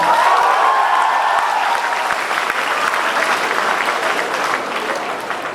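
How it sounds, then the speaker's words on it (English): A college youth festival crowd cheers and claps to open a fashion show, loud sustained applause from a large audience, with a fading tonal sound and faint voices mixed in at the start. "Can we have a huge round of applause?"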